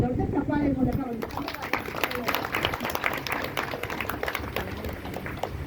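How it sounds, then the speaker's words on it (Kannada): A gathering applauds at a devotional community event, dense clapping from many hands that fills the room while voices carry underneath. "ನಾವು ಎಲ್ಲ ಒಂದು ದೊಡ್ಡ ಚಪ್ಪಾಳೆ ಮೂಲಕ"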